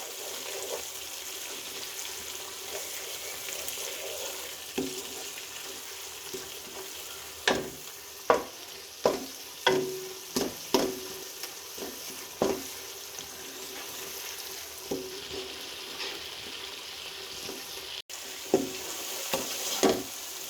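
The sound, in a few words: spices being fried and stirred for beef kofta curry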